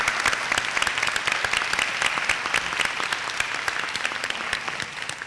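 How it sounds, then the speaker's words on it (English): An audience at a social venture pitch competition claps steadily and densely throughout, a sustained burst of applause that holds its level before tapering slightly at the end, with no voices over it. "round of applause?"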